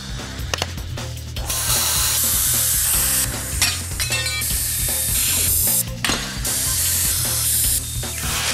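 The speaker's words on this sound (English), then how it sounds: "we can weld them on our new axle assemblies" Brackets being welded onto new axle assemblies for a Nissan crew truck build, heard as loud, close spitting and crackling bursts that start and stop in several long runs, with short gaps between them and no voices.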